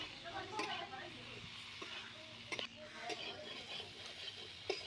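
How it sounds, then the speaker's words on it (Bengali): Potatoes and soybeans cooked with ground spices are stir-fried in a pan, giving a soft, quiet sizzle broken by occasional spatula scrapes and light clinks. "আলু সয়াবিনটাকে আবারও একসাথে ভালো করে কষিয়ে নেব আমি কিছুক্ষণ"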